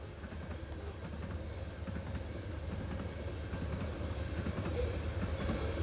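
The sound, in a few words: westbound grain train passing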